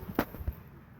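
A few fireworks burst in quick succession, one sharp crack followed by softer pops and a second thump, close and punchy against low background noise.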